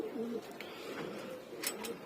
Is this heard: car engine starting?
no